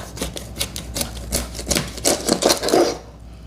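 Knife chopping through a whole fish for Jamaican escovitch fish, a series of about a dozen close, sharp cutting thuds against a board in an uneven rhythm, ending abruptly.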